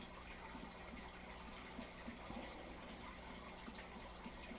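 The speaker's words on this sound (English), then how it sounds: "So in this waterfall," Waterfall in the survival video game Icarus, a faint, continuous rush and splash of falling water with small droplet-like flickers, steady and distant throughout.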